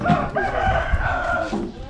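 A rooster crows loudly and close by, one long drawn-out call filling the whole moment with no talking.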